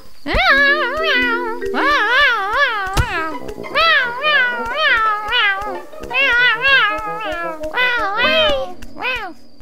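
A cartoon cat meows repeatedly in rising and falling, almost sung cries, close and loud, with a few tonal musical notes underneath and a sharp hit partway through.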